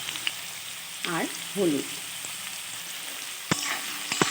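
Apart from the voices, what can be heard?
potato pieces frying in oil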